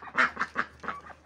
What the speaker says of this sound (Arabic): وهي الطيور نازلة بتنزل على اساس انه تاكل